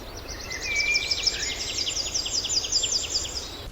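Birds sing outdoors on a sunny day at an open-air painting session, a dense run of high, rapid, repeated chirps and trills, fairly close and continuous, over a soft background of insects and breeze.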